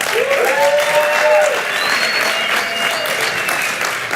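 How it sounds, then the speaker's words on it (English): A gala crowd breaks into a big, loud round of applause for an arriving guest, dense clapping with a few whoops and cheers riding on top, sustained for around four seconds. "So please, ladies and gentlemen, a huge round of applause."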